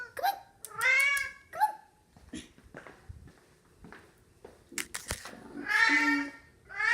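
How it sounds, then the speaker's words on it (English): A startled cat meows and caterwauls indoors in several loud, drawn-out cries, with scuffling footsteps and faint movement noises between them. "Whoa, I scared this cat."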